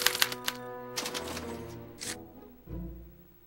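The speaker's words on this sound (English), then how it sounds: "they're relayed to this special typewriter, which prints out a punch card that represents the subject's mind map" A special typewriter in the Back to the Future adventure game clatters as it prints out a punch card, giving a quick burst of rapid mechanical strikes, then a couple of heavier clunks and a low whirring thud, close and alone.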